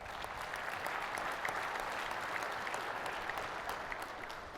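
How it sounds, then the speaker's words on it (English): Sustained applause from a conference audience at a union-made opening ceremony, steady dense clapping throughout, fairly distant and even in level. "Please, a round of applause for all of our sponsors."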